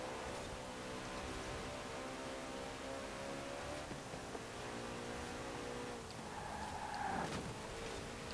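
A naturally aspirated Alfa Romeo engine in Forza Horizon 4 drones steadily at high revs, a continuous harmonic engine tone with a brief shift in pitch near the end, heard throughout at moderate level.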